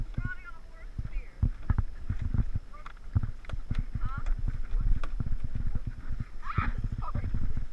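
A horse's hooves clip-clop in a quick, regular trot on a ride alongside a four-wheeler, close and steady, with a voice briefly speaking over the hoofbeats.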